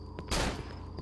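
A single loud shotgun blast in the horror video game Cry of Fear, a sharp close report with a short decaying tail over a steady game-ambience hum.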